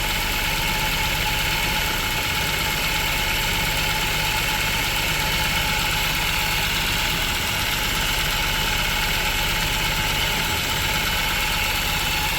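An Audi Q3 engine idling with a jammed throttle body, giving a loud, steady, unbroken drone with no talk over it.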